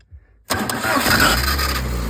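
An old village car's engine cranks and catches abruptly after a short quiet moment, then settles into a loud, steady running rumble close by.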